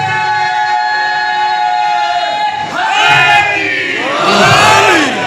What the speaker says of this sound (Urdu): یہ نعرہ ایسے لگاؤ جیسے نعرے کا حق ہے۔